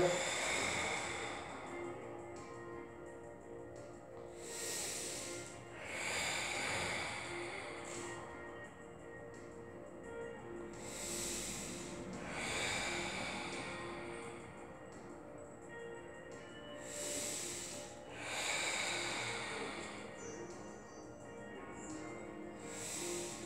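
During a glute and leg workout, a person exhales heavily in slow, breathy bursts roughly every five to six seconds, soft and close against a quiet background.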